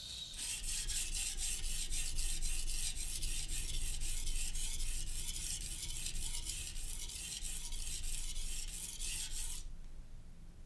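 Knife blade drawn repeatedly across a sharpening stone by a blind man, a rhythmic series of close raspy scraping strokes at a steady even pace, stopping abruptly near the end, no voices.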